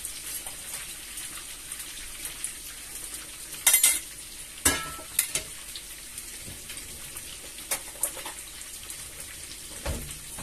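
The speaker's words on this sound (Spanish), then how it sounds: "Voy a poner la otra sartén para ir haciendo el sofrito" Sofrito frying quietly in a pan, a faint, steady sizzle broken by a few sharp clinks and pops, close by and with no voices.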